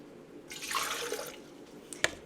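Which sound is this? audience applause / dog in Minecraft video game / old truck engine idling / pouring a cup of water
pouring a cup of water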